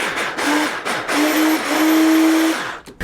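A food processor whirs loudly, blending dry ingredients like shredded coconut, flaxseed and cacao powder for a raw vegan red velvet cake, in short pulsed bursts before one longer steady run.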